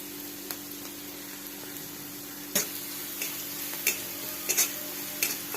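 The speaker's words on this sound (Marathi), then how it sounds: "हे कोथंबीर जरा परतून दिलेली आहे" Coriander leaves sautéing in a pan for a Satara-style peanut mhadya, giving a low steady sizzle broken by a few sharp clicks and spoon scrapes, fairly faint with no talking.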